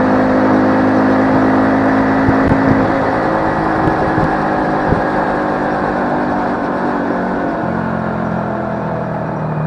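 XPro 125 cafe motorcycle, a Chinese four-speed BD125-2 single, held near top speed. The engine drones loudly and steadily throughout, with a constant rushing whir, a brief surge partway through and a slight drop in pitch near the end.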